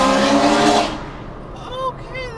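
Chevrolet Corvette engine, extremely loud, roaring close by in a broad burst for about a second before dropping away, leaving quieter traffic and a faint squeal behind.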